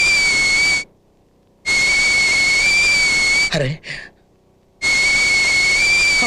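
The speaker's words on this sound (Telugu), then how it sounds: "ఏ పొయ్యి మీద కుక్కర్ ఏమైనా పెట్టావా?" A pressure cooker on a stove lets out loud, shrill, steady whistle blasts: one short burst, a longer one, then another starting after a pause. A brief exclaiming voice is heard in the gap.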